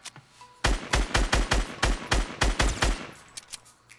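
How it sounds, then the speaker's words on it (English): Rapid gunfire in a video game as a player is shot, about a dozen sharp, evenly spaced bursts in quick succession, loud and close, trailing off into a few faint distant shots. "He's getting shot up by somebody else."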